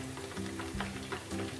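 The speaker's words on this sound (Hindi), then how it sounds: "इसको हम फ्राई करते रहेंगे जब तक इसका कलर लाइट ब्राउन ना हो जाएगा।" Chicken pieces frying in hot oil for Schezwan chicken, a steady close sizzle with a low hum underneath.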